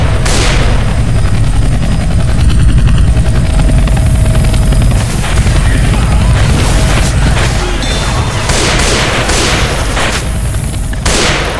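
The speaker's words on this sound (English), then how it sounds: "It's a helicopter." Loud, continuous helicopter rotor roar with heavy booming and bursts of gunfire in a Left 4 Dead 2 battle, no talking.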